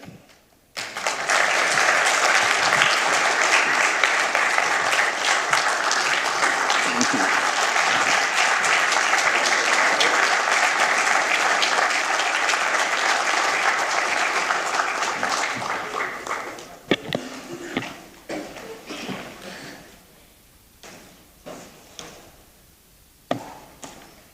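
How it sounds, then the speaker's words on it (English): Loud sustained applause from a conference audience giving a standing ovation for the Prime Minister of Guyana at the 39th AGM in Paramaribo, a dense roar of clapping for about fifteen seconds that then thins to scattered claps. "The standing ovation shows our appreciation"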